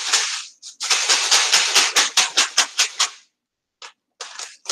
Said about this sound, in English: And I open up the package.